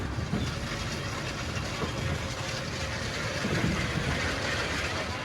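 The Grand Prix ride at Blackpool Pleasure Beach rolls along with a steady rumble and faint rhythmic clatter, with no voices over it.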